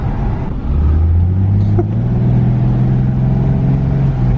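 A BMW E36 engine revs and holds a high, steady drone, its pitch climbing slowly because the automatic transmission will not downshift. The sound is loud and close, with no voices.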